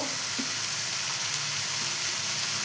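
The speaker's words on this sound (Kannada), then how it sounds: "ಎಲ್ಲವನ್ನು ಸೇರಿಸಿ ಚೆನ್ನಾಗಿ ಫ್ರೈ ಮಾಡಿ" Fenugreek sprouts frying with tomato and curry leaves in a pan give off a loud, steady sizzle with a few soft stirring touches, close by and unbroken.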